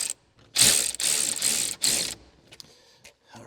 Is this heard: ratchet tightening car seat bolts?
yes